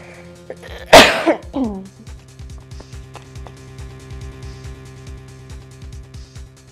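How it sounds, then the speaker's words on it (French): One loud, harsh cough close to the microphone, followed by a brief throat-clearing sound, then quiet rhythmic ticking in the background. "je vais tousser puis boire parce que j'ai la gorge très sèche"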